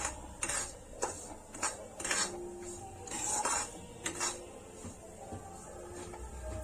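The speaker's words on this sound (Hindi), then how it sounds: "इसे भून लेते हैं अच्छी तरह से।" A spoon scraping and clinking in a pan while khoya, semolina and coconut are roasted together for gujiya, giving irregular metallic taps and scrapes at close range.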